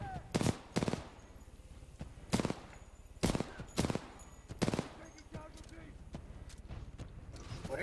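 Loud, separate gunshots in Titanfall 2's Blood and Rust campaign mission fire in irregular single cracks and quick pairs over a low, steady background hum.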